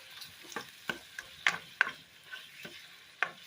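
Shrimp sear in a pan with a low sizzle beneath, punctuated by a series of sharp clinks and scrapes of stirring, spaced irregularly and close by, with no speech.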